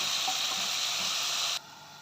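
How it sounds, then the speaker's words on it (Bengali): Bitter gourd fries in a pan with a steady, dense sizzle that drops abruptly to a softer hiss near the end, and no one speaks. "করলাটা কি সুন্দর করে ভাজা হয়ে গেছে"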